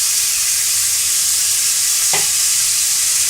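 Tomato, capsicum and carrot stir-fry in a hot pan with a constant close sizzling hiss and one brief utensil knock near the end.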